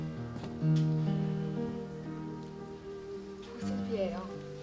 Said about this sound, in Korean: 보슬비예요.